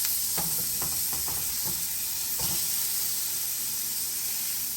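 Sausages fry in a non-stick pan with a constant bright sizzle, while a handful of quick utensil taps and scrapes come early, close and without talk.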